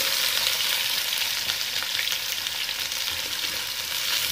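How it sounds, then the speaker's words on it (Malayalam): Two lengthwise-sliced onions frying in a pan for Thalappakatti-style biryani, giving a dense, even sizzle that stays loud and close without a break, with faint stirring textures underneath. "സവോള ഒന്ന് നല്ലോണം ചാടി വരണം."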